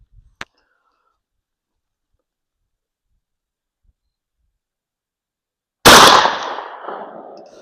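Single 12 gauge Sterling mini slug shot fired at an outdoor range, one loud sharp blast with a decaying tail after a long quiet stretch and a small click early on.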